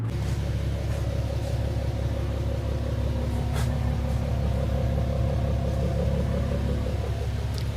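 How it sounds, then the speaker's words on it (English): An Infiniti G37 engine idles steadily with a low, constant rumble, unchanging and close, with no voices. "As you guys can see, I have the car running."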